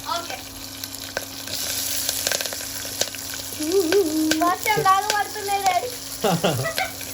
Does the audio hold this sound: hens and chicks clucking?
no